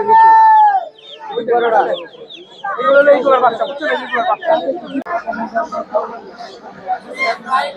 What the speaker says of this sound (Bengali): দেখতে পাচ্ছেন এখানে লেয়ার মুরগি কিনেছেন